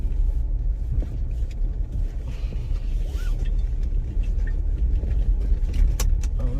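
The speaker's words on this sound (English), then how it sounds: "So here we go, we're driving into Hollywell." A car drives into Hollywell Recreation Park in Jamaica, giving a steady, close engine and road rumble with faint rattles and small clicks from the cabin, continuous and fairly loud throughout with no talking.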